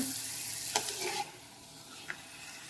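Tapioca pappadams fry in hot oil, a soft sizzle with a few light scrapes and stirs as they are flipped and lifted out, heard fairly close with no talking.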